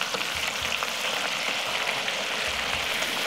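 Beef brisket fries over low heat in a wok, a steady, even, rain-like sizzle that stays constant and fairly loud, with a low rumble underneath.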